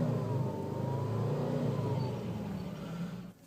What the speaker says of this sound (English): you also hear some of the throaty, burbly exhaust note in back.